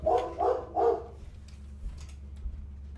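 A dog barks three times in quick succession, close and fairly loud, then goes quiet apart from faint low background hum and a few soft distant noises.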